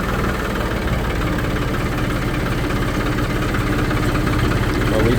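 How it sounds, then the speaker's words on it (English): A tractor engine idles near a grape vineyard, a loud, steady, unbroken mechanical drone with a constant low vibration that holds evenly from start to finish with no talking. "But we got the tractor."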